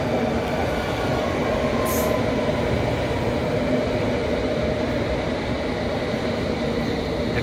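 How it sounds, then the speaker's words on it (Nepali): A train pulls into a station on the line to Chesham near London, with a steady, loud rumble of rolling carriages and rail noise throughout and no voices. "ल आफ्टर 5 मिनट्स हाम्रो चेसम जाने ट्रेन पनि आइसकेको छ"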